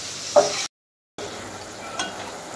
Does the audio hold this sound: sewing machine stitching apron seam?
no